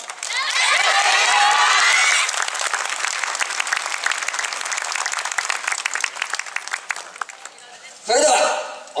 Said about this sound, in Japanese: ご声援よろしくお願い申し上げます